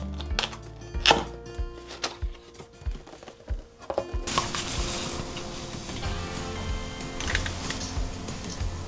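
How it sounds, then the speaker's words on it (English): A dog scratching in the background indoors while a knitting machine is unboxed: irregular scraping taps and clicks at first, then a steadier rustling wash of noise, fairly faint and without speech. "Sorry if you can hear my dog scratching in the background."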